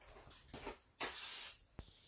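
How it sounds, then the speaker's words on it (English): A short, loud hiss of aerosol cooking spray lasting about half a second, close by, with faint handling sounds before and a small tap after. "I'm actually going to spray my hands with some cooking spray."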